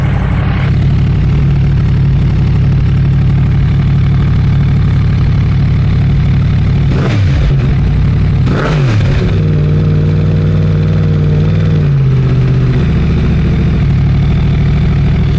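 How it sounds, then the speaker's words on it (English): Loud, close 2023 Yamaha MT-10 motorcycle fitted with a Pipewerx R11 carbon underslung exhaust idles with a deep steady rumble, broken by two quick throttle blips in the middle before settling back to a lumpy idle. "It sounds amazing. It's got a really nice rumble to it."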